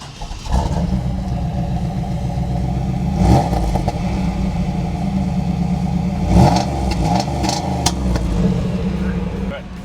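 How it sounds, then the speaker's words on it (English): A cold 1995 Chevrolet Camaro Z28 V8 engine starts and idles with a deep, rumbling throb, punctuated by a few sharp revs; voices talk quietly underneath. "That's a nice V8 motor."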